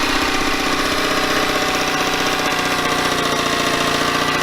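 A Yamaha 9.9 hp outboard motor with a leaking fuel diaphragm idles steadily while warming up, its loud, even putter and fast knocking rhythm close and continuous, with no voices.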